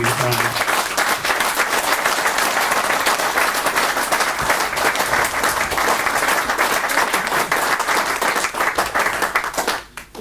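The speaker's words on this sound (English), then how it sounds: "So I'll just ask you to give them a quick round of applause from me." Sustained audience applause fills a public supporters' meeting of SISA, a dense, steady round of clapping from a sizeable crowd that holds for about ten seconds before abruptly dropping away at the end.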